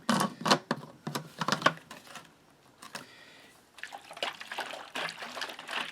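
Water poured while preparing MRE tea from a Slovenian ration pack, heard as irregular splashing and trickling bursts, quiet and close, with a brief lull midway before the pouring resumes.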